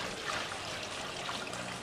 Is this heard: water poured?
yes